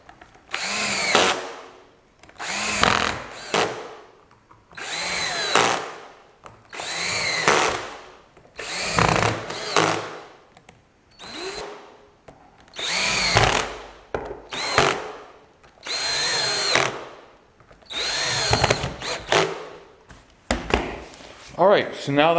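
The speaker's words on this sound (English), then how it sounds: "Now I just need to screw them in." Power drill driving screws into homemade tank track pads, heard as roughly ten separate whirring bursts, each a second or two long with short pauses between, close and fairly loud.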